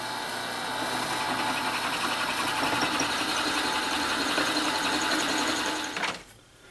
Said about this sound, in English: we will drill our 1/2 inch hole down through the height of this block